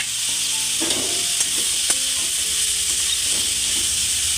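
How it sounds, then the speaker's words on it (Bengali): Grated pointed gourd and potato frying in hot oil, giving a loud, continuous sizzle and hiss throughout, with a few soft stirring scrapes underneath. "তেলটা গরম হয়ে গেলে পরে গ্রেট করা পটল আর গ্রেট করা আলু ওর মধ্যে দিয়ে দেবো। এটাকে ভেজে নেবো"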